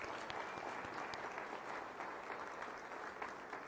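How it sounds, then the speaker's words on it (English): Steady applause from a graduation audience fills the hall, a dense even patter of many hands heard from a distance and fairly faint, continuing throughout with no voices on top. "The rousing, ovation is yours."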